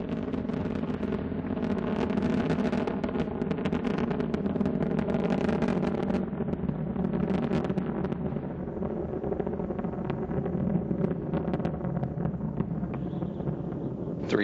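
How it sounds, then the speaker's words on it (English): Continuous, dense roar of the Space Shuttle Endeavour's three main engines during STS-134 launch ascent, a steady heavy rumble with crackle held throughout. "Three engines now throttling down as Endeavour passes through the area of maximum dynamic pressure on the vehicle in the lower atmosphere"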